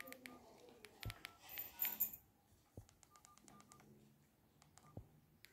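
Keypad tones from a Nokia 105 mobile phone as a code is entered, a sparse series of short electronic beeps spread across a few seconds, quiet and close, with faint background noise between presses.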